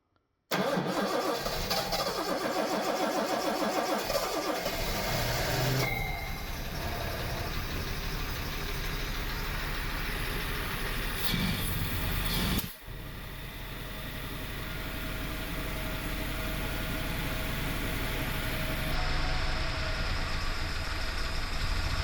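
A classic Jaguar engine with freshly cleaned SU carburetors cranks, catches and settles into a steady idle, loud and close, running on without any voices.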